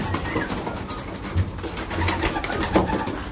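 Racing pigeons coo at a loft, close soft throaty calls repeating over a busy rustling background with flapping and movement, no speech.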